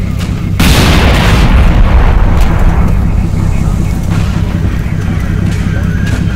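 Artillery shells exploding in the war game Combat Mission Black Sea: a loud, deep boom bursts in early, then a long rumbling roar with scattered further impacts under faint background talk.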